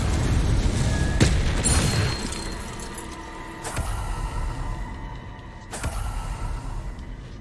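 Heavy blasts from a Confringo fire spell in Hogwarts Legacy: a loud booming burst opens, then two more sharp impacts land a few seconds apart, each trailing into a rumbling decay, with no talk over them.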